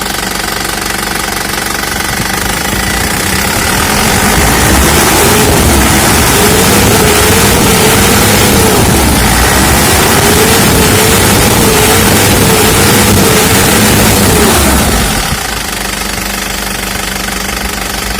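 A 2018 Isuzu Elf long truck with an Adi Putro body has its diesel engine clattering at a steady idle, then revving twice in long, rising and falling pulls before settling back to idle, loud and close.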